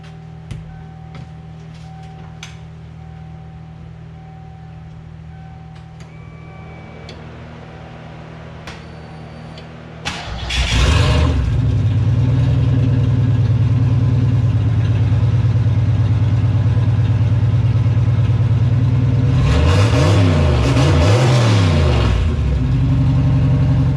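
A Ford Mustang Foxbody engine cranks and fires after about ten seconds of quiet background hum, then idles loudly and steadily, with a pair of throttle revs rising and falling near the end.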